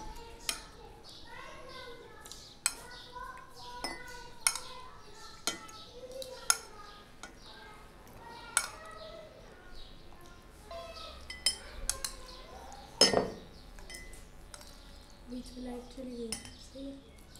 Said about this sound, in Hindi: इसके लिए हम पहले जेली को ग्लास में डाल लेंगे।